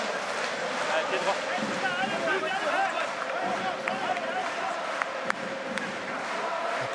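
Loud, dense rugby crowd at La Rochelle's stadium during a Top 14 match between Stade Rochelais and RC Toulonnais, cheering and chanting steadily throughout, with a commentator talking over the roar.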